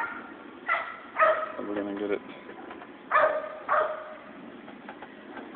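Dog barking in a garage workspace during car wiring work, a few sharp barks in two short clusters, moderately near, with a voice briefly speaking.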